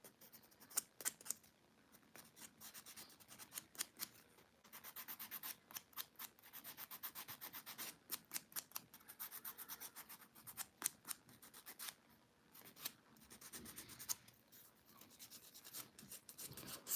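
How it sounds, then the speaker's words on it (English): Fingernails filed with a nail file in steady, rapid back-and-forth strokes, a close, dry scratching rasp repeating in short bursts throughout with brief pauses between strokes. "Filing is the most difficult and it's the most important part too."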